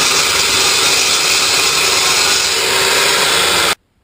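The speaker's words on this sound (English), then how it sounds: "Okay, so I've trimmed that a little bit more with my grinder," An angle grinder trimming a metal shaft runs as a loud, steady, harsh whine with no break, then cuts off abruptly near the end.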